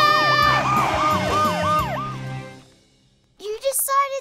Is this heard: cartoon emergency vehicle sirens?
yes